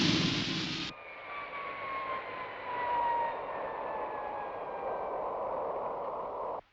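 Supercar aircraft engine roaring loudly in flight at high altitude, a steady broadband jet rush with a descending whine that drops in level as the throttle is cut, then cuts off at the end.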